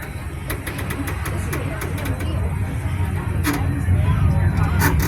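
A low engine rumble builds gradually as an amusement park train at Hersheypark begins to move, with faint clanks and some background voices.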